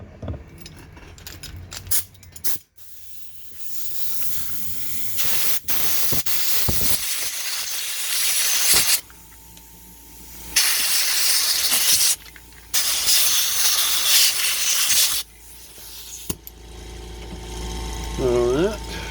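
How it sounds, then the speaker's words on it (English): Compressed air blasts in loud, hissing bursts over a corroded battery pack from an IBM Wheelwriter typewriter's memory backup, several long sprays separated by short pauses and handling noise. "Let's hit it with some real compressed air."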